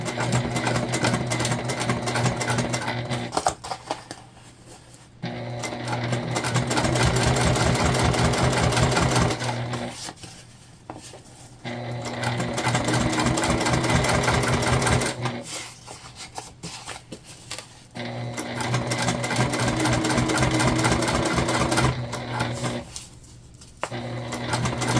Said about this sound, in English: we're gonna top stitch on our lining panel